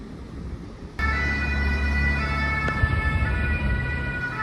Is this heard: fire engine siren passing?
yes